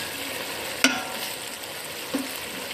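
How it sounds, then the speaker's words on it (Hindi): Chicken frying in a pot with masala for korma, a steady close sizzle with two sharp clinks of a spoon stirring against the pot. "ये देखें ये चिकन भूनने स्टार्ट हो गई है,"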